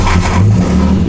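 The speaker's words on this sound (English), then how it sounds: "It is so loud. It's got a muffler and a res, but that doesn't quiet down the 4-liter barrel that's inside." A 4-liter car engine with a muffler and resonator revs hard inside a home garage, a loud, close, deep roar that swells and holds for the whole short burst.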